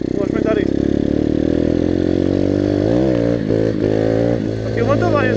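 A 125cc pit bike engine revs hard during a clutch-kick wheelie test, holding a loud, continuous buzzing drone with rising and falling pitch sweeps as the clutch is popped and the throttle is worked.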